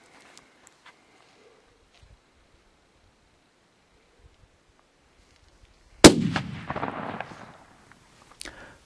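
A single rifle shot fired at a black bear from about 326 yards during a spring spot-and-stalk hunt in Idaho, one sharp loud crack followed by a rolling echo across open country after near silence.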